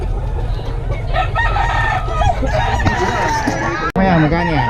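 Chickens and roosters at a busy poultry market in Bocaue, with several overlapping crows and clucks standing out over a constant crowd murmur and people talking nearby.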